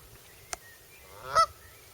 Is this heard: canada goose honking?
yes